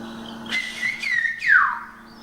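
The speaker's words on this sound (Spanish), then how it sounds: "Pepe, vamos entonces a intentar silbar estas expresiones." A single whistled phrase from the whistled language of Gran Canaria, performed alone: several sliding, tonal whistle notes rising and falling over about two seconds, clear and close, with no talking.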